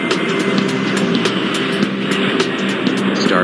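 Airliner engines roar steadily and loudly in the Airport Madness 4 airport game as a plane takes off, a continuous dense rumble with no talk.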